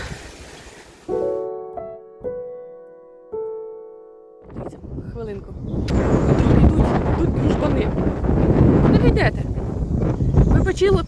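Strong wind outdoors in Ireland roars and buffets the microphone in a loud, continuous rush, preceded by a few brief tones and quieter moments.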